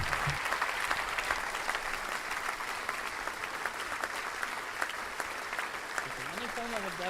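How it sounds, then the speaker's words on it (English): Steady audience applause at a live talk show event, a sustained dense patter of many hands clapping at moderate distance, with a brief voice rising near the end. "Round of applause."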